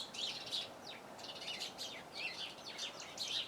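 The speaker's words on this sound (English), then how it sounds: "Everyone says the bird song is nice and relaxing and lovely" Birds chirp and twitter repeatedly in quick high bursts, fairly quiet and slightly distant, over a soft outdoor hiss.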